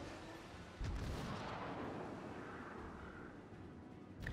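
Rapid-firing guns of the Cleveland cruiser in World of Warships give a faint, distant boom that swells into a long rumbling roll, ending with another soft thud, with no voices.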